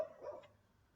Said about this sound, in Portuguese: Desculpa aí o cachorro.